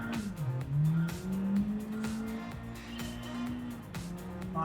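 Front-engine, front-wheel-drive 2022 Honda Civic Type R hot hatch revving hard as its wheels spin, a loud close engine note climbing and wavering in pitch with tire noise beneath, heard from inside the car.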